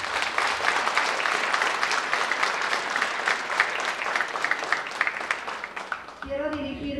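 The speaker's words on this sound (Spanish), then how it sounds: "acompañarme con un fuerte voto de aplausos para los 16 jóvenes" Sustained applause from a crowd at a graduation ceremony, steady and loud for several seconds before fading out, with a voice beginning at the end.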